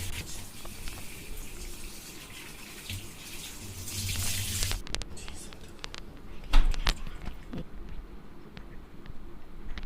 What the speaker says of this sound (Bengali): রুই মাছটাকে আমি ভালো করে আগে ধুয়ে নেব